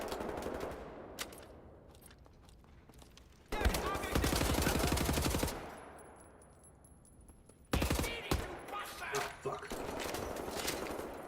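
Bursts of rapid automatic gunfire in Wolfenstein come in two loud volleys separated by quieter gaps, with scattered single shots and a voice talking in between.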